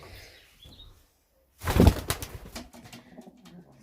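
Stock pigeons in a loft: a sudden burst of wing flapping close by, followed by fainter fluttering, shuffling and soft coos against a quiet background.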